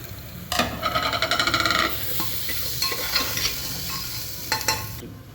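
Spices and ground black pepper roasting in a pan for a mutton dish, stirred with a utensil in quick rhythmic scraping strokes over a soft sizzle, close up with no talking.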